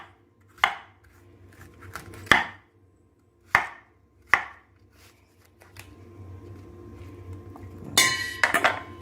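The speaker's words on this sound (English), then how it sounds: "we're gonna chop a couple of pieces of apple here" Pieces of apple chopped with a knife on a cutting board, five or six sharp separate thuds at uneven intervals, then a brief clatter of quick clinks near the end over a quiet low hum.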